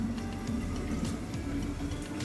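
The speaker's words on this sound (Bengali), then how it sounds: "মাইক্রোওয়েভে 2টো আলু সেদ্ধ করে নিই আমার জন্যে।" A microwave oven runs while boiling two potatoes, giving off a steady low electrical hum with faint ticking over it.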